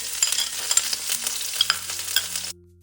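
Sliced onions and ginger garlic paste fry in rice bran oil, giving a close, steady sizzle with stirring scrapes that cuts off abruptly near the end.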